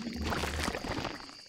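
A short burst of splashing, pouring water as crops are watered in the Stardew Valley video game, with a low game tone underneath.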